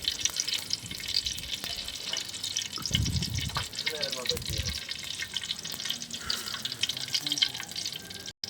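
Fish fries in oil in a pan on a stove, giving a steady close sizzle with light crackling and a few low bumps. A voice is faintly heard now and then.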